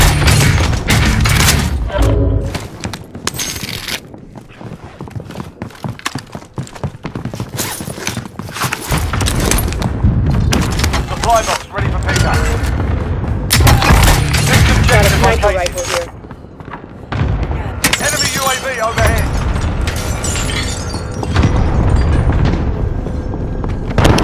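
Gunfire and explosions in the Call of Duty: Modern Warfare video game come as repeated bursts of shots and heavy booms in dense clusters. Quieter gaps fall between them, with voices in the mix.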